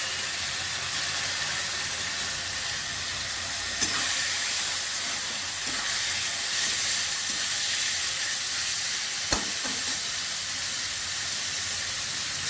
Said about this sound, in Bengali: এবার আমি কচুর শাকটা জল ঝরিয়ে দিয়ে দেবো